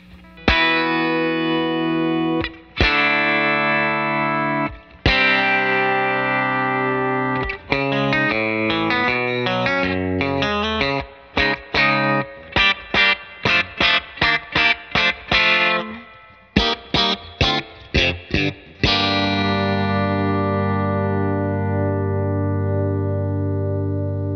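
Electric guitar run through a Barber Electronics Tone Press compressor pedal at its most extreme settings: heavily squashed, sustained chords and quick staccato bursts of notes over about twenty seconds, ending in a long ringing decay, with no talking.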